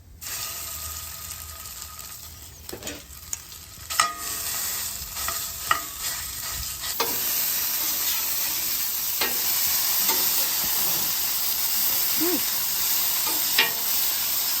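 Bacon frying on a griddle insert over a Weber gas grill, a steady close sizzle with scattered clicks and scrapes from utensils, rising to a fuller continuous crackle in the second half.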